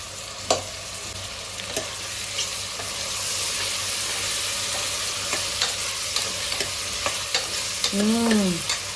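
Prawn gongura pulao masala simmers and sizzles in a pan with a steady frying hiss and occasional stirring clinks, followed near the end by a brief spoken vocal sound.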